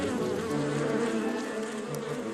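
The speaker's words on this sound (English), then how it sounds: "This returning bee has just found a new source of nectar and is going to tell others in the hive about it." Honey bees buzzing close up at the hive as a forager returns. A steady, dense hum of many wings continues throughout with no speech.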